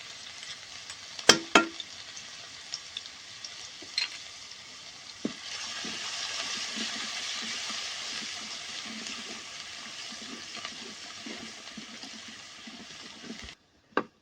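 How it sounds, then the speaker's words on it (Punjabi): Ginger-garlic paste hits hot oil with tempered cumin for a pumpkin sabzi, setting off a steady, continuous sizzle after a few sharp clanks of a utensil, and the frying runs on alone until it stops abruptly. "ਹੁਣ ਪਾ ਦਾਂਗੇ ਜੀ ਅਦਰਕ ਲਸਣ ਦਾ ਪੇਸਟ ਇਹਨੂੰ ਵੀ ਆਪਾਂ ਚੰਗੀ ਤਰ੍ਹਾਂ ਭੁੰਨ ਲੈਣਾ ਹੈ"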